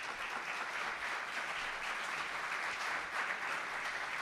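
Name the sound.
audience applauding at a talk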